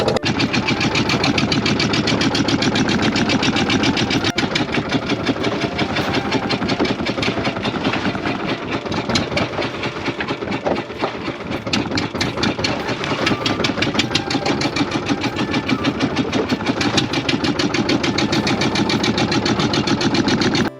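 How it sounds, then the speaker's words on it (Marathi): A fishing boat engine runs steadily and loudly throughout at sea, a constant throbbing drone with a rapid mechanical knock and no voices. "कारण पाठी इंजिनाचा आवाज खूप येता"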